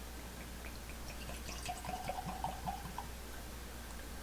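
Old Elk bourbon is poured into a glass, a faint, close gurgling trickle of liquid with small bubbly plinks for a couple of seconds, set against a low steady room hum.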